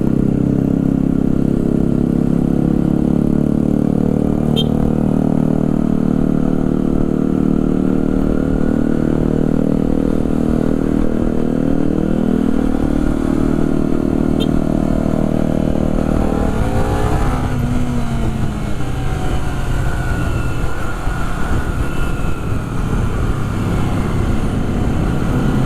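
Honda CBR 250RR 2023 engine running in Sport Plus mode, a steady close drone in stop-and-go traffic with a low hum that shifts midway into rising revs and a clattering mechanical rasp.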